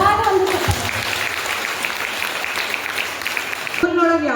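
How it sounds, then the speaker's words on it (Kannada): Audience clapping at a Jain temple hall inauguration ceremony, a dense, loud burst of applause that fills the clip, with a voice speaking at the very start and end. "ಚಪ್ಪಾಳೆ ಜೋರಾದ ಒಂದು"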